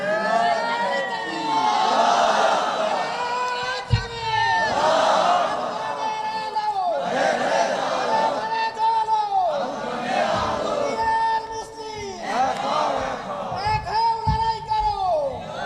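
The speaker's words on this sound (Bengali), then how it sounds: "যে কোনো একজন তাকবীর দেন" A crowd at an Islamic sermon shouting takbir in repeated loud rising chants, wave after wave of massed voices answering a leader, close and full throughout the stretch.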